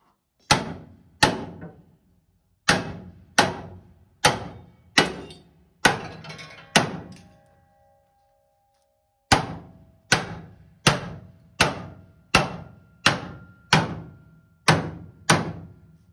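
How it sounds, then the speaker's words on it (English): Hammer driving a shim into the frame of a 1993 OBS pickup being lowered with a C-notch: sharp, loud metallic blows in a steady rhythm, one run of eight strikes, a short pause, then about ten more, each ringing briefly. "Now I'm gonna take my hammer and spank it in there"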